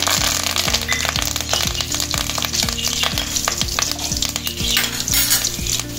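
Curry leaves with cinnamon, cloves and cardamom crackle and fry in hot oil in a kadai for a turkey curry, a loud dense sizzle with a rapid repeating rattle running through it, close up and without speech.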